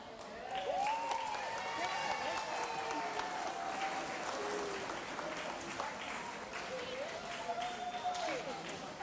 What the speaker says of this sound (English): Now clap.